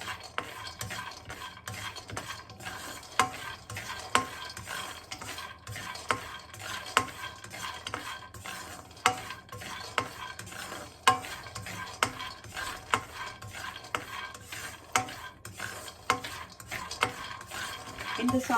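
Ingredients roasting in oil in a wok for sambar, a continuous soft sizzle with repeated scraping and clinking strokes of a utensil against the metal, close and steady, without speech.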